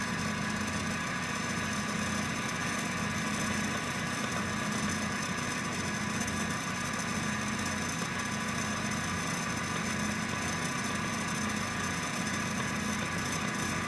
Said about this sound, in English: There's an 850 RPM idle